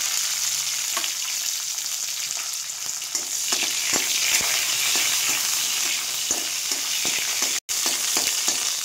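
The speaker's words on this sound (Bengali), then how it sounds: "এবার তেলটা গরম হলে দিয়ে দিলাম।" Green chilli, garlic cloves and nigella seeds crackle in hot oil in a steady, loud sizzle, with scattered sharp pops and stirring scrapes throughout and a brief cutout near the end.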